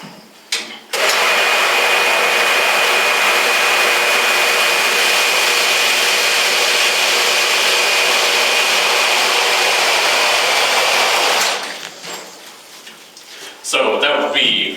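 A carpet cleaning machine laying down solution runs loudly and steadily over carpet for about ten seconds with a broad hissing whir, then cuts off, leaving quieter handling noises.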